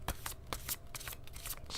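Tarot cards are shuffled up close during a live zodiac reading, a rapid rippling series of papery riffles and flicks with no voice over them.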